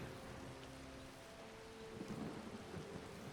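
Rain falls and thunder rumbles in the Skyrim video game, a faint, even wash of rain with a low rolling swell of thunder near the end.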